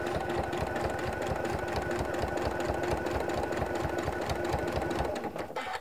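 A sewing machine runs steadily at close range, stitching binding onto a quilt with a fast, even mechanical chatter that continues without pause before slowing at the end.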